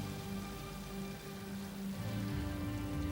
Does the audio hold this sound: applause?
no